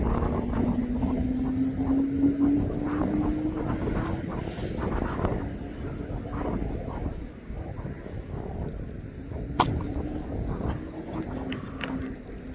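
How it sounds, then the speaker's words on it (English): Distant drone of a Jet2 passenger jet arriving from Ibiza as it descends to land at East Midlands Airport, a steady low roar with a faint rising whine under wind noise outdoors. "This Jet2 holidays from Ibiza is now just coming into land."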